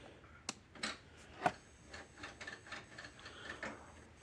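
A DARE DE 2400 electric fence energizer with no output cycles quietly, giving faint irregular ticks and clicks at a low level, alone with no talk.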